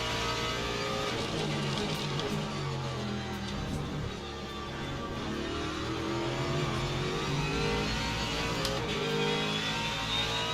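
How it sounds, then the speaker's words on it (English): A GT3 race car in a racing video game comes out of a corner at Imola with wheel spin. The engine drones and revs steadily near the listener with faint tyre noise underneath, and there is no talk. "Not a great exit there, got a bit of wheel spin"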